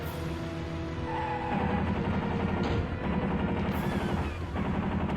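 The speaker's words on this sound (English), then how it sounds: "Just shoot this statue for a while." Sustained vehicle gunfire pounds a statue in Twisted Metal 2 on PC, a dense continuous clatter of shots layered over engine and game noise, with no voices.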